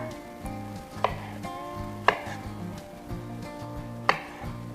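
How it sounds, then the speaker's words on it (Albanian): A knife cuts a cherry tomato into quarters on a board in a kitchen, with three distinct crisp cuts about a second apart over background music. "E presim një pomodorini më 4, sepse duhen të vogla."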